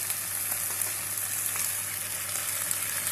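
Whole peeled tomatoes hit a hot pan while cooking shakshuka, producing a steady, close, broadband sizzle and frying hiss with small crackles and no voices.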